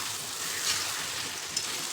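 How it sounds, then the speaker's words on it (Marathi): Fried vegetables go into sizzling paneer biryani gravy, producing a loud, continuous close-up sizzle and hiss, with no voices. "आपण हे वाफून घेतलेल्या भाज्या म्हणजे तळून घेतलेल्या भाज्या घालायच्या."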